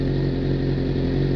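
A Suzuki GSX-R750 motorcycle on race scrub tyres rides Lincolnshire streets. Its engine holds a steady, close, loud drone with no clear revving.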